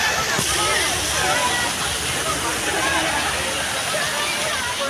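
Water splashes and rushes continuously at a steady, loud level, with voices talking beneath it.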